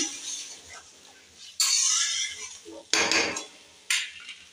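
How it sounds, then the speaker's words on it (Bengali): Paneer curry with a little added water being stirred in a pan, heard as three bright scraping and clinking spoon strokes against the metal, separated by quieter pauses; no voices. "অল্প পরিমাণে জল দিলাম, ভালো করে একটু নাড়িয়ে নিলাম।"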